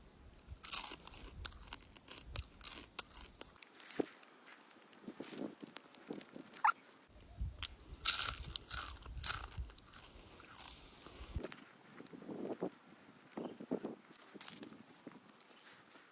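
Fried locusts are bitten and chewed up close, giving loud irregular crunches and wet chewing that pause briefly and resume.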